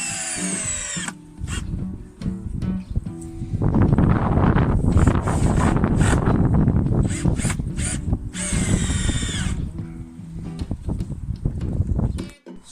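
A power drill drives screws into pallet fence posts, whining in repeated bursts with a long loud stretch of grinding in the middle, heard close outdoors over wind noise.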